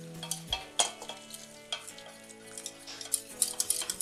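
A sauce thinned with broth for a kohlrabi gratin being stirred constantly in a pot, with repeated scraping and tapping strokes of the spoon and faint bubbling, close and fairly quiet.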